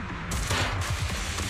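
Gunfire in Zenless Zone Zero, a short dense burst of rapid shots lasting over a second, loud and close with no talk.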